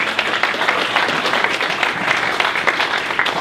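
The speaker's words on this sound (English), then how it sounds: "Let's give them a applause of a hand." An audience at a holiday pitch competition bursts into sustained applause, dense clapping from many hands filling the room evenly from start to finish.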